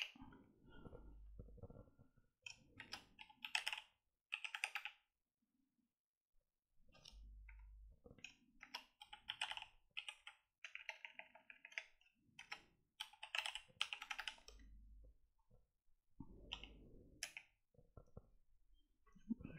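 A password is typed on a computer keyboard in short bursts of quick clicking keystrokes separated by pauses, close and clear with no talking.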